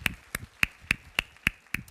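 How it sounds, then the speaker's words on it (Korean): A church congregation at a Sunday worship service giving a clap offering, sharp, evenly spaced single claps ringing out about every quarter second, crisp and fairly close, with no voices over them. "박수로 하나님 앞에 영광을 돌려드리겠습니다."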